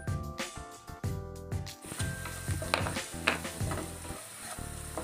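Ground spices — coriander powder, cumin powder, garam masala and red chili — sizzling in hot oil over browned onions in a pan for palak paneer, a steady close crackle with stirring scrapes and occasional utensil clinks, no talking.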